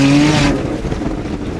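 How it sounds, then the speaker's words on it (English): A Smart car's engine whines at high revs while mudding, then the tone abruptly cuts off as it shifts into second gear, leaving a rougher, lower rumble of the car churning along. "See, there's the second gear shift."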